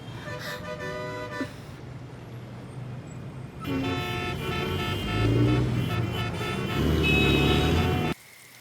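Street traffic with car horns honking, repeated toots of varying pitch over a steady roar of engines that grows louder midway, then cuts off abruptly.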